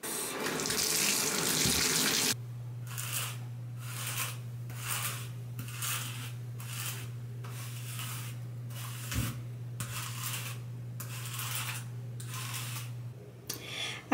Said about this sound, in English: Time to shower,